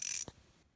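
A socket wrench with a deep-well 7 mm socket ratchets on a valve cover access panel bolt of a Lincoln LS V8, a short, close, quiet burst of rapid clicks followed by one clack.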